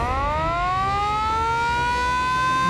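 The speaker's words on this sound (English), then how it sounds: "People were warned through alert sirens" Civil defense alert siren warning of Cyclone Fani, a steady loud wailing tone slowly rising in pitch, sustained throughout with no talk.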